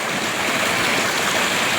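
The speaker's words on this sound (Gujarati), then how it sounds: "આપણે મોટર ફાઇનલી ચાલુ થઈ ગઈ." Water gushes and flows continuously from a farm water pump driven by a motor, a loud, steady rushing wash that runs unbroken until it cuts off abruptly at the very end.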